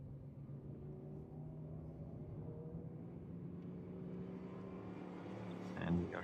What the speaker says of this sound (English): And we are hearing the cars.